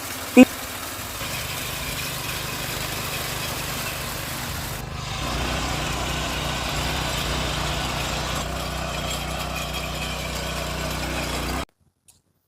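An iMake power tiller engine runs steadily at a constant idle, a continuous close mechanical drone with a brief knock at the start, before cutting off abruptly near the end.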